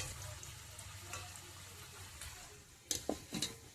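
Pumpkin pieces frying in oil in a kadai for a Bengali pachan: a soft, steady sizzle, faint and close, ending with a few sharp utensil clinks against the pan.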